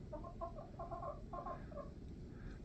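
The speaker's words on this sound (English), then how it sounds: "Chickens survived." Backyard chickens that survived the Eaton Fire cluck in short, repeated bursts of several notes each, faint and somewhat distant, over a quiet background of outdoor noise.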